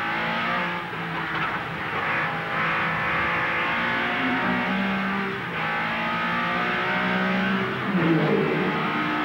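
Sports sedan race cars at Amaroo Park in 1984 roar continuously at full throttle, engines droning and shifting pitch as one car passes a slower car, loud and steady throughout with no talk.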